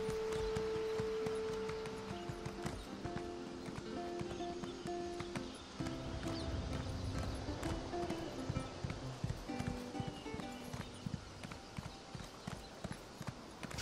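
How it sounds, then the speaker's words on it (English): Horse hooves clop up stairs in the video game The Elder Scrolls Online in a steady, slightly uneven rhythm of hollow knocks, fairly close, with a faint musical background underneath. "Can horses go upstairs like this?"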